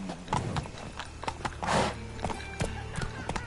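Grey horse clip-clopping in a steady run of sharp hoof strikes, close and fairly loud, with a brief burst of broadband noise midway and a faint voice now and then.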